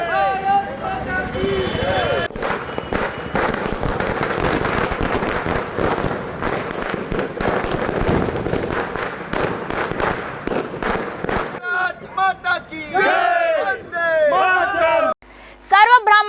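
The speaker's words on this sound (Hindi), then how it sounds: "चंद्रयान की सफलता हेतु भारतीय जनता पार्टी कार्यालय के समक्ष पटाखा फोड़ एवं मिठाइयां खिलाकर खुशियां मनाई गई।" Firecrackers set off outside a Bharatiya Janata Party office in Jagdalpur to celebrate Chandrayaan's success, a loud, dense crackling barrage of rapid bursts for several seconds, then people talking and shouting nearby as the popping tails off.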